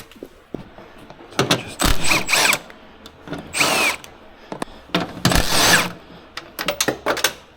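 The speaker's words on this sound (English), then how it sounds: "Use my DeWalt Milwaukee gun." Bursts from a DeWalt or Milwaukee power tool gun during a 2017 Ford Escape EcoBoost fuel injector replacement, several short loud whirring runs separated by pauses, close by.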